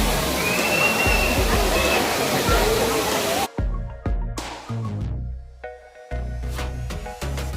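The Siruvani waterfall at Kovai Kutralam roars as a dense, continuous rush of falling water for a few seconds, then cuts off abruptly to quieter, scattered sounds.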